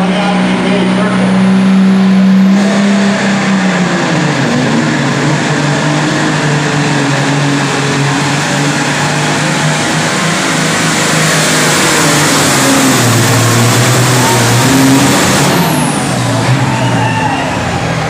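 A super stock pulling tractor roars loudly at an indoor winter tractor pull, its engine holding a sustained heavy bellow with shifting pitch for most of the run, and an announcer talks over it.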